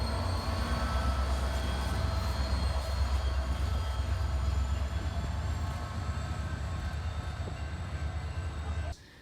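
Steady, loud rumble of a moving train heard from inside a carriage, with a broad low roar and faint high tonal whines, continuous for several seconds before a sudden drop near the end.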